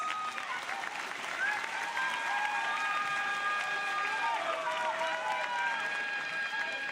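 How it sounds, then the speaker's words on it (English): Audience applause for the final 8 delegates at the Miss International 2024 pageant, a broad steady clapping wash under sustained music tones and faint voices, moderately loud throughout. "Please give all of our final 8 delegates a big round of applause."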